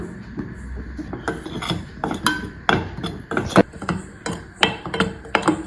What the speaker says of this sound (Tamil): இந்த மாவெல்லாம் வறுத்துக்கலாம் கொஞ்சம் கொஞ்சமாக